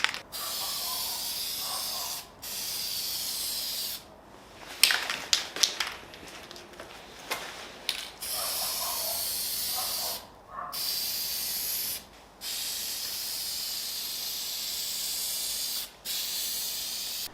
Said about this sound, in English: now we're going to do the second coat